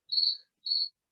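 Cricket chirping twice, two short high trills separated by a brief silence, clear and isolated against a quiet background.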